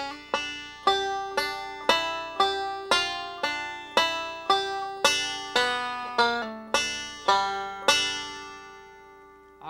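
Banjo picking the opening phrase of the fiddle tune Old Joe Clark, a steady string of bright plucked notes, each one ringing and decaying, played close and clear with no talking and a final note left to sustain.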